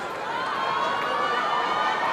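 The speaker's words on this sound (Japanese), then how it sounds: "熱戦に館内から大きな拍手が送られています" Crowd in a sumo arena at the 2025 Aki Basho applauds a hard-fought top-division bout between Hakuohō and Ōhō, a dense, steady wash of clapping that holds at an even level throughout.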